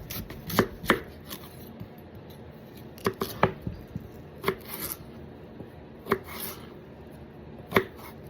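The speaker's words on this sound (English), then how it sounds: "this knife is super sharp. Cuts through that sweet potato like butter" A very sharp knife slices a sweet potato into quarter-inch fries on a cutting board, giving crisp, sparse chopping thuds at an irregular rhythm, close and clear.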